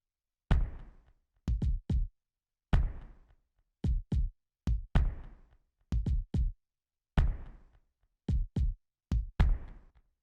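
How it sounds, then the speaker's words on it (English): Kick drums from a Roland XV5080 synthesizer's techno expansion board play together in a syncopated rhythm for a breakdown, with clusters of two or three punchy, booming hits and short gaps, loud and alone. "I'm gonna show you how this kick drum sounds together with the other kick drums in the rhythm"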